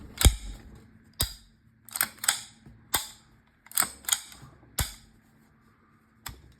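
Mechanical clicks from a Masterpiece Arms MAC-10 as its safety and trigger are function-checked after reassembly: about ten sharp, close metallic snaps in irregular pairs and singles, alone with no talk.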